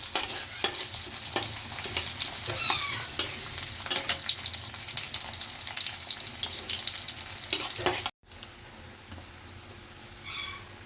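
Onion and green chilies frying in oil with cumin and dried red chilies for ash gourd bhaji, a busy close sizzle with stirring scrapes that cuts off abruptly, leaving a quieter hiss.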